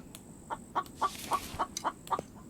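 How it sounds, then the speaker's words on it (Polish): A chicken clucking in the survival video game The Infected, a series of about eight short evenly spaced clucks, moderately close and alone against a quiet ambient background. "O, kurę gdzieś słyszałem."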